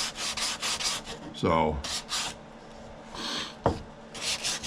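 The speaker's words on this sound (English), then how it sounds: "that's a little bit of sanding on that one" Sandpaper rubbing on a chamfered wooden box top, several short rasping strokes in bursts, close and moderately loud, with someone speaking briefly between passes.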